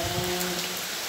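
Rain pours down steadily as a dense, close hiss with a faint constant tone underneath, lasting the whole short moment without voices.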